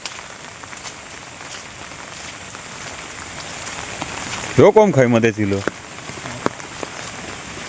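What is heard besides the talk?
rain falling on a farm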